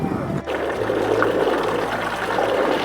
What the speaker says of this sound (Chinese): 这个是耐寒水龙头